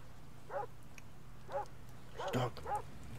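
A dog in the video game Sweet Dreams gives several short, soft barks and yips spaced across a few seconds, over a low steady hum.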